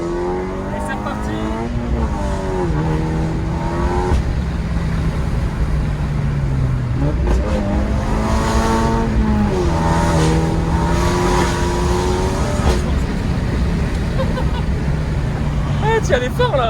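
A Stage 3+ tuned 400 hp Mini Cooper accelerating hard through several gear changes, engine note rising and falling loudly up close, with people talking over it; distinct exhaust pops are not clearly picked out.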